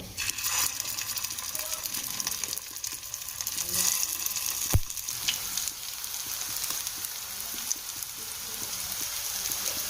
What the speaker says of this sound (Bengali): একে একে চপগুলো আমি এর মধ্যে দিয়ে ভেজে নেব।